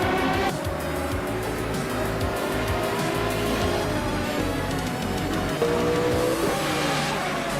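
Race cars roar around the Detroit Street Circuit in a video game, with continuous loud engine drone, shifting revs and brief tire squeal throughout.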